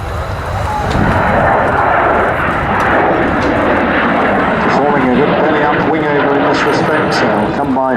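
A Canberra PR9 jet from the RAF's 39 Squadron makes a low, dirty-configuration pass at RAF Waddington, a loud sustained engine roar lasting throughout with a shifting whine near the end.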